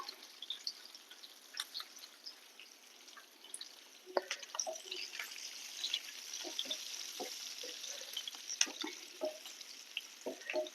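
Garlic and ginger fry in hot oil for a tuna pickle, giving soft, intermittent crackles and spits that pop up irregularly over a quiet background, close and faint, with no voices.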